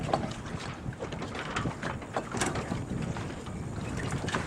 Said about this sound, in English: Now I can take the main down.